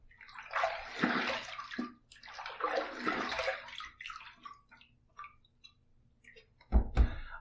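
Running tap water splashes and gurgles in two long bursts as a razor is rinsed mid-shave, followed by scattered drips and clicks and a sharp clatter near the end, close and fairly quiet.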